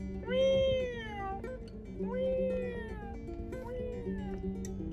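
A cat meows repeatedly, three or four drawn-out, rising-and-falling meows close by over a low steady background hum.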